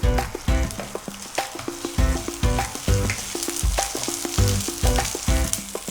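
Ginger paste spits in hot oil in a pan, a crisp close sizzle broken by repeated knocks and scrapes of a spoon stirring, with no talking.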